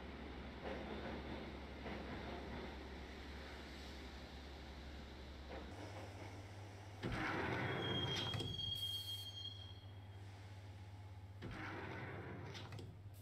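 Steady rumble of a train ride in the video game Max Payne, with low droning, a shift partway through, and bursts of rattling and squealing wheels.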